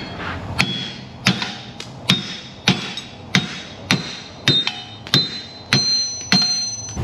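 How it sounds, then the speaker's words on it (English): Steady metal hammer blows knocking out wheel studs on a car strike about once every second, each ringing briefly with a bright metallic clang, close and loud over faint background noise. "Let's see if the studs are here and we can hammer these out."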